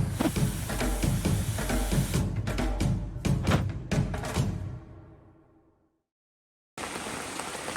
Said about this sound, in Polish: Patrzcie jak pada.